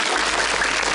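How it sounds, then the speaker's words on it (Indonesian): A TV studio audience in an Indonesian religious charity show applauds, a dense, steady burst of clapping filling the short moment with no talk. "boleh tepuk tangan lu dong"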